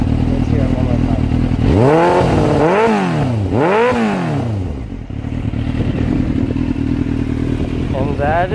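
A new motorcycle's engine revs up twice in quick succession, each rev rising and falling in pitch, then settles back to a steady, loud close-up idle.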